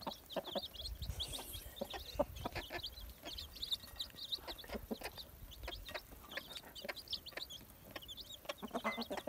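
Several chickens scuffle and cluck in a fight among farmyard fowl, short bird calls scattered steadily throughout over constant background noise, fairly close but quiet.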